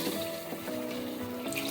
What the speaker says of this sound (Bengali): আমি এখন কড়াইতে জল দেব